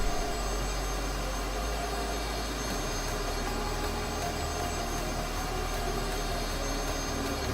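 The jet engine of a Cessna T-37B Tweet in Microsoft Flight Simulator gives a continuous loud whine and roar, steady throughout, with no talk.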